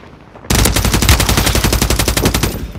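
Rapid automatic gunfire from a Call of Duty match, a loud sustained burst of evenly spaced shots that starts abruptly and runs for over two seconds without pause.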